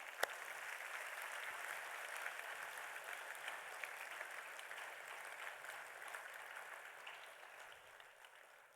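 Students at a school's first assembly of the academic year applaud steadily. The dense, even clapping is heard from a distance in a large hall, holds at one level throughout and fades only slightly at the end.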